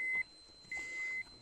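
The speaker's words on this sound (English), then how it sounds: "That constant beeping is a reminder of the real dangers of the radiation here." Sharp, high electronic beeps from a radiation dosimeter at Chernobyl sound in a sparse pattern: one short tone, then two longer tones close together, against near silence.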